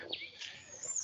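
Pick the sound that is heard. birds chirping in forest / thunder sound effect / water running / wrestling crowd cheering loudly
birds chirping in forest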